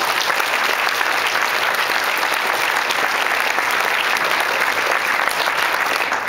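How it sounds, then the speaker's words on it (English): An audience at a wedding reception gives the venue staff a sustained, even round of applause, loud and continuous from start to finish. "So we give actually those guys a round of applause."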